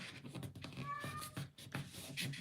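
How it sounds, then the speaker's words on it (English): An indoor cat gives a short meow nearby, mixed into a steady stream of rustling and handling noises at a crafting table. "Do y'all hear my cat?"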